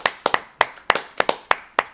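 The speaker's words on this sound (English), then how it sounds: "Go ahead and clap that up for you guys." Hands clap about nine times in two seconds, close and crisp, with an uneven, loose rhythm and no talking.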